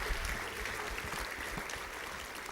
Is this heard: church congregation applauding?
yes